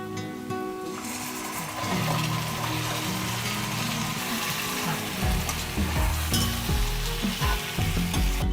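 Chicken pieces sizzle and fry loudly in a pan for biryani, a dense continuous crackle with stirring clatter and scraping, getting fuller after the first second and staying steady throughout.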